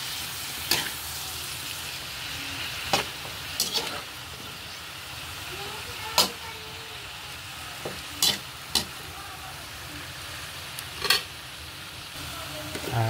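Adobong sitaw with oyster sauce stirred in a sizzling pan, a constant frying hiss broken by sharp, irregular scraping clicks of the utensil against the pan every second or two.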